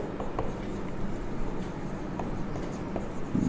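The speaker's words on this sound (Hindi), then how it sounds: "तो यहां पर लिखेंगे" Chalk or a marker scratches across a board during a physics lecture on Coulomb's law, a steady close scraping with small taps between strokes over a noisy room background.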